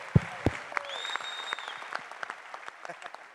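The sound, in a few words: audience applause for the champion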